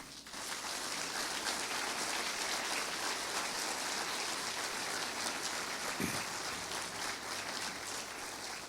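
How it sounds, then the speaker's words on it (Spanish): A church congregation applauds the Lord during a Spanish-language sermon, with broad, continuous clapping like a steady downpour of hands that stays even and moderately distant, with one brief louder thump near the end. "Dele un aplauso al Señor"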